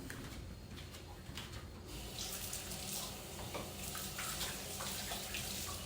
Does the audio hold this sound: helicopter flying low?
no